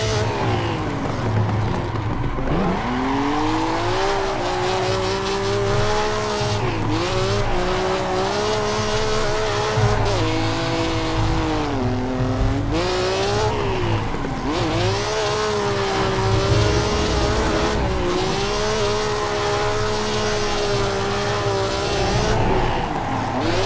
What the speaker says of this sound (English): so you can actually hear the engine